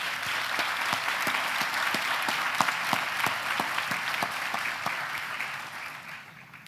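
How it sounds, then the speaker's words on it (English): An audience at a cancer center groundbreaking ceremony applauds steadily for a handbell choir, a sustained wash of clapping with a few sharper individual claps, tapering off at the end. "Let's give them a round of applause."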